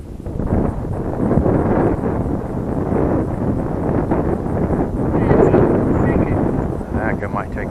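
Strong wind buffeting the microphone in a constant loud rush during flight of a small Eachine Mini Mustang P51D RC plane, with speech heard over it.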